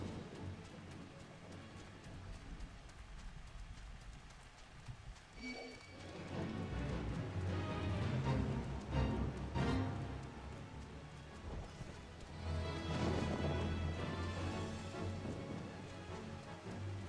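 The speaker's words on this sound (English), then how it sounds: "Still raining, I see." Steady rainfall in the Final Fantasy XIV game world, a continuous hiss of drops that swells louder midway, with faint footstep-like clops mixed in and no talking.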